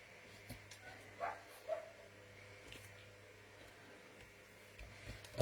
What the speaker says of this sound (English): The dogs are about to go out next door, so you'll hear them.